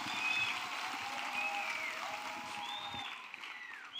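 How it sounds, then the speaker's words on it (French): A church congregation applauding during a prayer service: steady, dense clapping from a crowd carries on throughout at moderate loudness, with faint tonal sounds mixed in behind it. "Acclamez pour. Clap for him."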